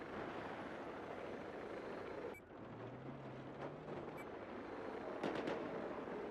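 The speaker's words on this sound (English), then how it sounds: "Hostile helicopter west of where you are." A distant helicopter in Battlefield 4 online play drones steadily through a noisy battle soundscape, with a few sharp bangs and clicks breaking through.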